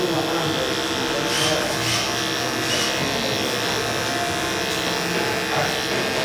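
Electric hair clippers buzz steadily and close up while blending a mid bald fade with detachable guards, a continuous motor whine running the whole time as people chat in the background.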